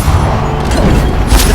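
A Bombarda blasting-spell explosion in Hogwarts Legacy: a loud, dense booming rumble that runs throughout, with a sharper blast bursting out near the end.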